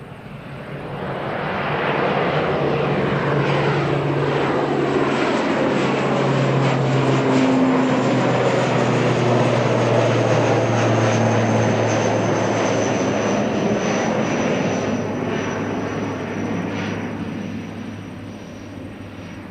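A fixed-wing aircraft takes off at an airport, its engine roar swelling and holding loud for many seconds before slowly fading as it climbs away.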